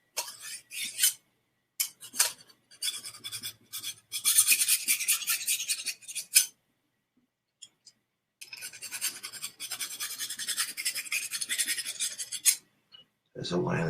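A metal knife blade is drawn along the groove of a steak knife sharpener in short, gritty rasping strokes. The strokes come in bursts, with a long quiet gap midway.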